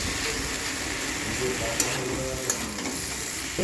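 Leafy greens and vegetables fry with ground turmeric and a spice paste while being stirred in a pan, giving a continuous soft sizzle with a couple of sharp utensil clicks against the metal.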